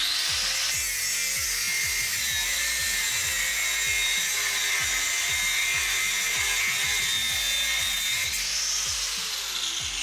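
An angle grinder cuts through a seized track rod end nut on a VW Caddy, a loud continuous high whine with a rhythmic pulsing underneath, close and steady throughout.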